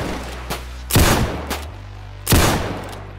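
Repeater rifle fire in the Roblox game Zulu Wars during a British line defending against a Zulu charge: two loud, close booming shots with smaller cracks of distant fire between them over a constant low game rumble.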